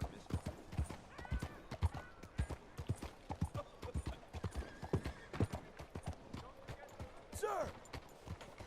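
Horse hooves clip-clop in a quick uneven rhythm on the ground in Red Dead Redemption 2, with a horse's whinny rising near the end and faint voices talking underneath, all fairly quiet.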